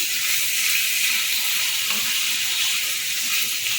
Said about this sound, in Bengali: এবার চিকেনগুলো এর মধ্যে দিয়ে দেবো চিকেনটা দিয়েও একটুখানি পেঁয়াজের সাথে ভালো করে নাড়াচাড়া করে নেবো